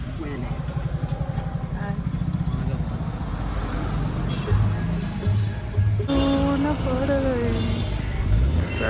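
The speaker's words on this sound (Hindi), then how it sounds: "ट्रैफिक बहुत है तो हम टर्न मार रहे हैं अभी" Road traffic during a drive to the St Francis Xavier Exposition in Goa, a continuous rumble of engines and passing vehicles with occasional horn-like tones, while people talk over it.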